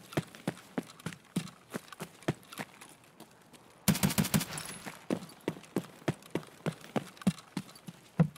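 Gunfire in Escape From Tarkov, single and paired shots at a steady rhythm, sharp and fairly distant, with one dense rapid burst in the middle, set against quiet surroundings.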